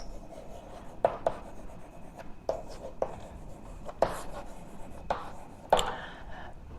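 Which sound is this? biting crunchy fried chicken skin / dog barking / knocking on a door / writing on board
writing on board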